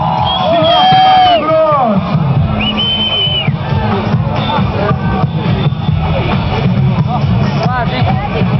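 Crowd at a Red Bull freestyle demo applauds and cheers a rider, a dense roar of voices and whoops with a loud burst at the start, continuing as a steady hubbub under a commentator's talk.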